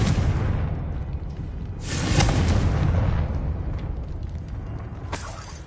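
A Confringo fire spell explodes in Hogwarts Legacy inside a witch's tomb, a loud booming blast that swells in the middle of the clip and rumbles on, followed by a sharp crack near the end, with no talking.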